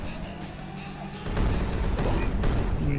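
A bomb detonating in the Gone Viral video game: a sudden loud burst of broadband blast noise that cuts in over earlier game sounds and sustains as a heavy rumbling roar to the end.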